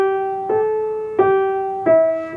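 Solo piano plays a Silent Night phrase in even quarter notes, three clear sustained notes struck about every 0.7 seconds with rich overtones, close and alone.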